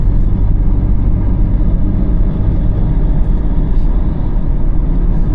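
A car cruises on a national highway in Tamil Nadu, shifting up into fifth gear, giving a steady, loud low engine and road rumble with continuous tyre and wind noise throughout, no voices.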